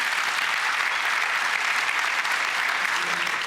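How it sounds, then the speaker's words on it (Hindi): Loud, dense applause from an audience at a business talk honoring an investor, steady and sustained throughout with no gaps, a continuous wash of clapping from many hands. "जोरदार तालियां मोतीलाल साहब के लिए।"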